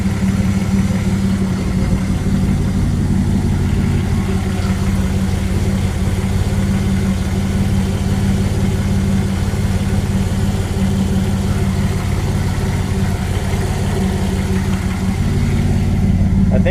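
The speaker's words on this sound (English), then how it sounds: "It's idling good." A car engine idles steadily after a vacuum port and turbo oil drain line install, a close, even low rumble holding constant throughout with no revving or talk.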